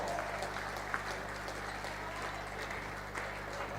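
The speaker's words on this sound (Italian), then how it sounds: "Un applauso per Valentina Pacco" Spectators at a Serie B1 women's volleyball match applaud a player, a soft, steady patter of clapping in a hall over a constant low hum.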